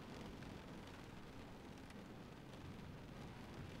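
Rain in the video game The Stanley Parable: Ultra Deluxe, a steady hiss of falling rain with a faint low rumble beneath, even and continuous throughout, fairly quiet.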